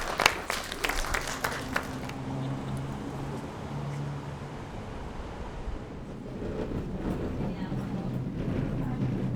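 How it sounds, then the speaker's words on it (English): A brief patter of clapping opens, then fades into a soft, washy crowd murmur and room noise, with faint talking underneath, somewhat distant and low in level. "Give yourself a round of applause"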